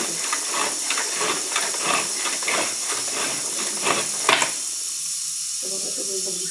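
A 2-in-1 hand chopper working on onion gives quick repeated whirring, scraping pulls in an irregular rhythm, close and fairly loud, before stopping and leaving lighter clicks and handling.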